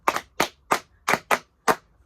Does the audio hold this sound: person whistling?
no